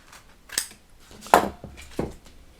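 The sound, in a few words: cutting off a piece of Bat-Mat carpet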